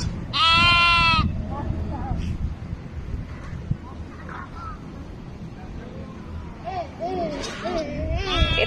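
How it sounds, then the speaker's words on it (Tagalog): On a farm, a goat gives one loud, wavering bleat up close, followed by fainter, shorter calls from other animals over wind and low background noise. "kambing."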